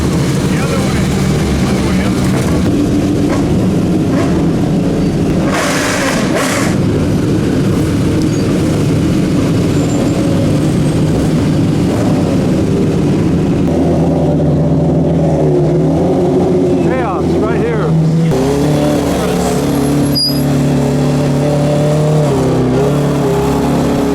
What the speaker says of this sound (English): So that's a loud arrival, mainly BMWs.